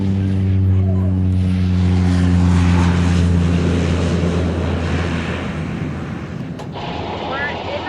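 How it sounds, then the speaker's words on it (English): A small private propeller plane drones steadily in flight, a loud, constant engine hum with strong low harmonics filling the cabin throughout, easing slightly toward the end. "We're in the plane, we're flying back."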